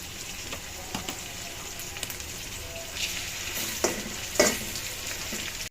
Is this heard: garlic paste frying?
yes